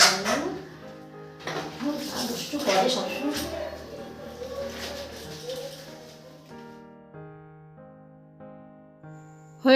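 Dishes and utensils washed by hand at a sink, with scattered clinks of pots and metal ware scrubbed and rinsed, followed by sparse tapping as someone speaks over much of it.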